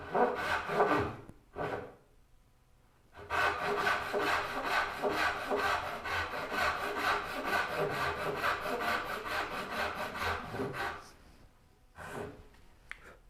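A handsaw cuts dovetails in a wooden board clamped in a Moxon vise. After a couple of short trial strokes, it settles into long, steady rasping strokes heard up close, then stops, followed by a few final strokes.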